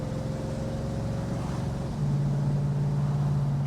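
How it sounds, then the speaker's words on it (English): A 1965 AMC Marlin V8 drones steadily on the road as it kicks down a gear, the note stepping to a deeper, louder rumble partway through, heard from inside the car with no talking. "kicks down a gear, great V8 rumble"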